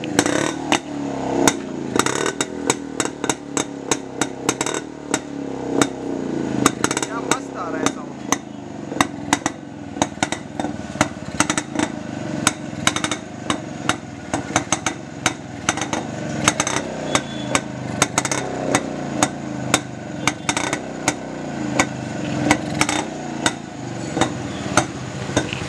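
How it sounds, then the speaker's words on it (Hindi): Vintage Jawa Classic 250 motorcycle engine idling after a kick start, its exhaust giving an irregular, close, loud thumping beat that carries on steadily throughout. "ये देखिए ऑन हो गया सिंगल किक में, एक सिंगल किक में ऑन। और उसका एग्जॉस्ट साउंड सुनिए"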